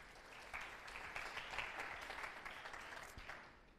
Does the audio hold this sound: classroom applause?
yes